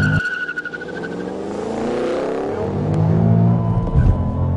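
A 2013 Ford Shelby GT500 launches hard at about 3,800 RPM with traction control on. The engine revs climb steadily and loudly over several seconds, with a rising roar and a heavier surge near the end, and no voices.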